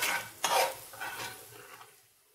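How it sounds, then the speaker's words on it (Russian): Mushrooms with a mix of black, red and white peppercorns, along with carrot and onion, stirred in a pan: a few close scraping swipes of a utensil over a light sizzle that fades out toward the end. "Контрольный раз перемешиваем."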